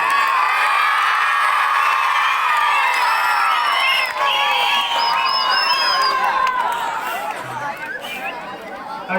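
A large crowd of children cheers, whoops and claps at a 2024 school annual day celebration, making a dense, loud, continuous roar of many overlapping voices that eases slightly toward the end.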